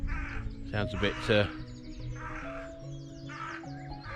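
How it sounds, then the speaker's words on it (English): A carrion crow caws harshly a few times at a lakeside while someone talks over it. "there's a carrion crow making a right racket"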